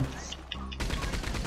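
Machine gun fire in the Western game Red Dead Online, a rapid rattling burst of shots that starts abruptly partway through, close and loud over background game sound.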